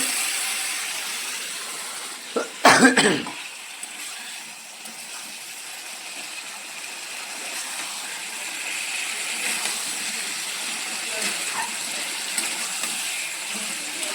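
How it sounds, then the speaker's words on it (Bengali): Water boiling vigorously in a pot while dum biryani is being cooked, a steady hissing bubbling wash throughout with one brief loud clatter early on. "আর এদিকে জল দেখো না কি গপ গপ করে ফুটতেছে"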